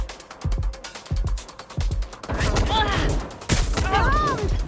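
Rapid gunfire in Watch Dogs: Legion, a string of quick sharp shots at the start followed by denser firing and other game effects, loud and close.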